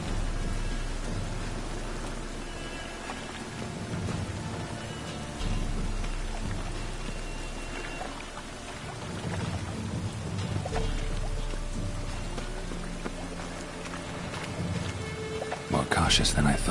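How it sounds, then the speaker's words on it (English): Heavy rain in The Witcher 3 video game pours down steadily, a continuous wash of drops that swells and eases in waves. A rumble of thunder rolls underneath and a sharper burst sounds at the end. "Looks like rain."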